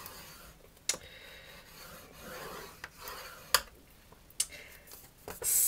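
Cardstock paper being scored for a fold flat box: soft scraping rasps along the score line, with a few sharp ticks as the tool sets down and lifts, close and quiet, no talking.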